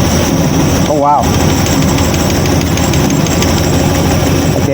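A 1953 Ford Customline with a swapped 350 V8 engine and new intake runs at a steady, loud idle, its low rumble continuous and close throughout, briefly stumbling, with a voice speaking over it.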